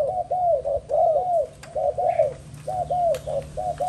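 A Malaysian spotted dove coos close by in a steady run of repeated soft, rolling phrases with short pauses between them. No voices are heard.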